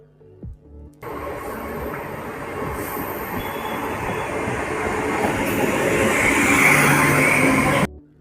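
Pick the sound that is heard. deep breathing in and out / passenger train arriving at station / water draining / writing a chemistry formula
passenger train arriving at station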